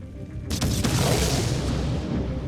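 Huge explosions heard from a hotel during a holiday disaster, a sudden loud boom followed by a sustained rumbling roar that fills the sound.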